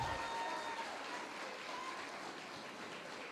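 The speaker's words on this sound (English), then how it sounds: "Y'all stand up and give him a round of applause." Standing audience applause for a guest at a university distinguished speaker series, a dense, even patter of many hands that holds at a moderate, slightly distant level throughout.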